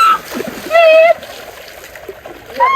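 Water is poured and splashed onto a person in a few short sloshing bursts, with voices speaking between the splashes.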